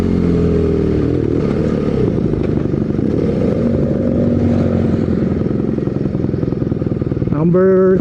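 A BMW R nineT motorcycle's twin boxer engine runs close by with a steady, throbbing idle. It gives a sharp rising rev near the end.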